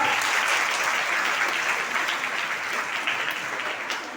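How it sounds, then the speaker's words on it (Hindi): Audience applause at a school function in Shamli, greeting the chief guest with a sustained, dense wash of clapping that stays loud and steady throughout, fading slightly toward the end. "जोरदार तालियों से स्वागत करें इनका"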